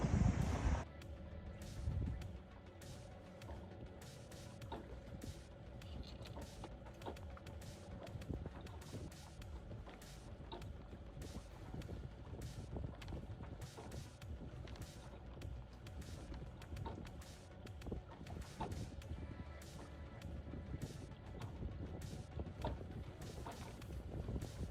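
Northerly wind buffeting a sailing catamaran at sea, with steady gusty rushing and frequent sharp knocks and flaps from rigging and hull over a low background rumble.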